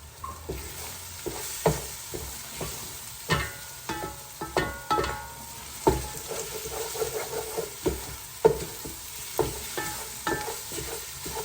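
Chicken macaroni ingredients fry with onions in a pan, giving a steady sizzle broken by repeated scraping stir strokes and utensil clicks, close and moderately loud with no talking.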